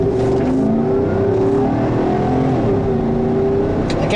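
A 2013 Chevrolet Tahoe SUV accelerates with a steady, loud engine drone and rising tones, heard from inside the cabin with no talking.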